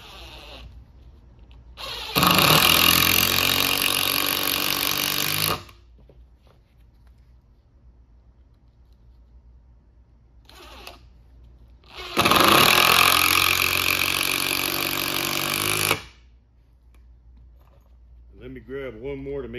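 An impact driver fitted with Ryobi bits drives screws in two loud, sustained whirring and rattling bursts of a few seconds each, separated by quieter stretches with faint background talk.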